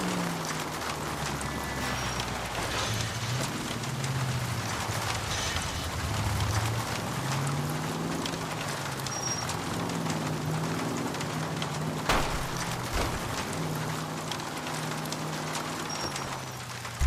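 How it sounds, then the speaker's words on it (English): Steady rain falls in a video game during a thunderstorm, a continuous even hiss with faint low rumbling underneath and no talking. "is the game purposely making it rain with thunderstorms for a dramatic effect?"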